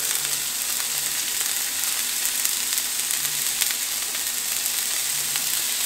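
Sausage and vegetables sizzle in about two tablespoons of oil in a pot for a one-pot jambalaya. The frying hiss is close, steady and loud, with faint crackles throughout and no talking.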